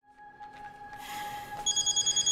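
An electronic telephone ringing: steady tonal rings at first, then a brighter, louder repeating ring pattern of about six quick pulses, close and clear with no talk.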